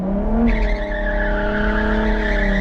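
A car drifts with its engine revving hard, a loud sustained whine rising in pitch alongside rough tire squeal and skidding, close up and continuous.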